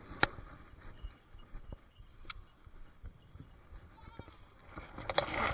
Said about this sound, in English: You big whiny goats.